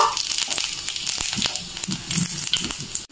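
Dried chili and five-spice (panch phoron) dropped into hot mustard oil for tamarind pickle, giving a steady close sizzle with scattered crackles and pops, no talk.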